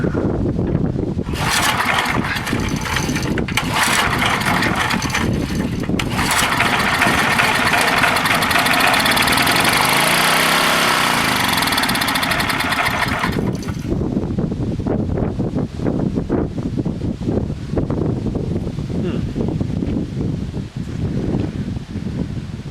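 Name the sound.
old Craftsman 2400 watt generator engine running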